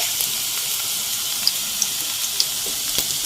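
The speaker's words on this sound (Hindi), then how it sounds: "इसको हमें यहाँ बहुत अच्छी तरह से फ्राई कर लेना है कि हमारी जो मैगी की बॉल्स हैं या पकौड़े हैं वो अच्छी तरह से दोनों तरफ से फ्राई हो जाएं" Maggi pakora balls frying in hot oil, a steady close hiss and sizzle with occasional small pops, without any talking.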